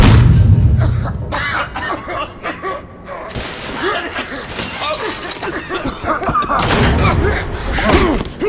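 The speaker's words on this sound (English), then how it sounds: "Grenade!" Grenade blasts and debris crash in The Order: 1886, a loud burst opening the clip followed by repeated thuds, crackling impacts and a second strong boom near the end, with brief shouted voices mixed in.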